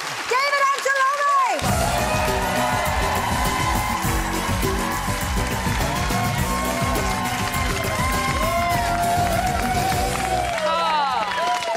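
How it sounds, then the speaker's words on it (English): A loud, sustained roar of cheering, whooping and applause from a studio audience after a jive dance performance, steady and close throughout, with voices and music mixed in. "The crowd went wild."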